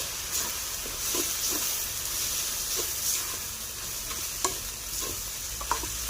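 Leftover rice fries with a little dried fish for garlic fried rice, a steady hissing sizzle under repeated light scrapes and taps of a spatula stirring it, close and with no one speaking.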